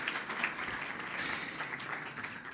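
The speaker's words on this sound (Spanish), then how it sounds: "Recibimos al licenciado Horacio Mendoza con un fuerte aplauso." A seated audience at a business talk gives a sustained round of applause to welcome a speaker, a dense, even clatter of many hands lasting the whole stretch with no voices over it.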